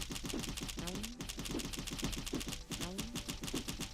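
An ice gun in the game Cally's Trials fires rapidly, a fast stream of sharp repeating shots with a few brief tonal zips mixed in.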